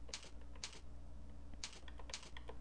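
Typing on a computer keyboard, close and quiet, with light rapid keystrokes in short clusters and a couple of firmer key presses such as Enter, over a low steady hum.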